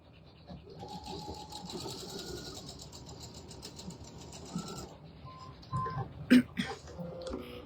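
Sewing machine stitching down the tabs on a diagonal drawstring bag: a steady mechanical whirr with a rapid needle rhythm runs close for about five seconds, then stops, followed by a few handling clicks and knocks.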